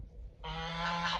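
Geese at a door give a loud, close honk that starts abruptly after a quiet moment and holds as a sustained nasal call, alone with no voices.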